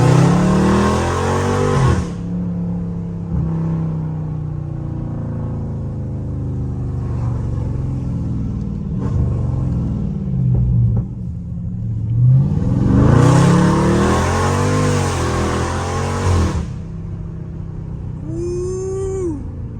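A loud Dodge Scat Pack roars close by as it drives through a neighborhood. Its engine revs hard at the start and again midway, with a steady rumbling cruise between the bursts and gear-shift pitch sweeps.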